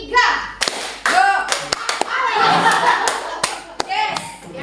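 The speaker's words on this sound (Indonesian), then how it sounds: "tepuk satu kali, tepuk dua kali, tepuk tiga kali" Rhythmic hand claps in groups of one, two and three cut through a busy room, with children's voices and chatter running underneath the sharp, close slaps.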